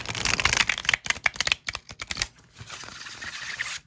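Large, thick-cardstock oracle cards shuffled by hand in quick bursts of riffling and flicking, close up, followed by softer sliding and tapping.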